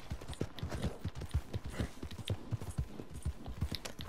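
Steady clip-clop of horse hooves trotting at a quick, even rhythm in a video game, fairly close, with faint background ambience.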